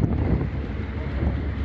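Steady gusting wind buffets the microphone at the seaside at Sarayburnu, Istanbul, a continuous low roar with a faint wash of water beneath it.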